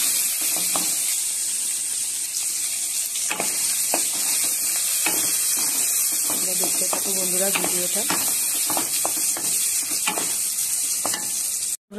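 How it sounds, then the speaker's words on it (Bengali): Paneer pieces fry lightly in oil in a kadai, a steady bright sizzle with occasional stirring scrapes and clinks, while someone speaks briefly near the end. "পনিরটাকে আমি হালকা করে ভেজে নেব"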